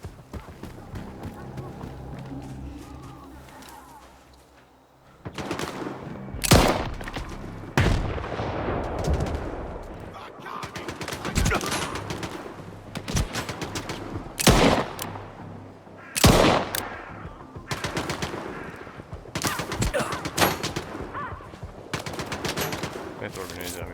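Pistol gunfire in Stalker 2 in the Zaton area at dusk, a string of sharp, loud shots at uneven intervals amid footsteps and background noise, with talking throughout.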